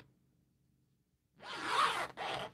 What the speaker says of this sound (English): you can go ahead and open your zipper back up